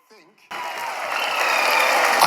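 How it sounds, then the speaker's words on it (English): Applause breaks out in a mission control room after a lunar lander touchdown. It follows a brief voice and a moment of quiet, then swells into steady, dense clapping that keeps building. "Applauding."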